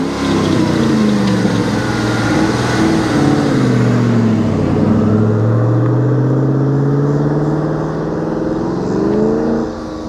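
A 1999 Ford Mustang Cobra drives past outside, its engine note rising then falling in pitch as it approaches and recedes; it stays loud and steady throughout with no talking.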